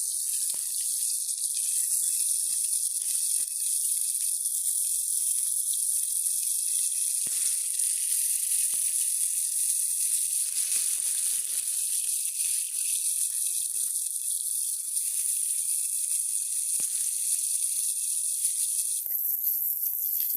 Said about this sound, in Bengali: মাছগুলো এপিঠ ওপিঠ উল্টিয়ে দুই পিঠ খুব ভালোভাবে ভেজে নিব।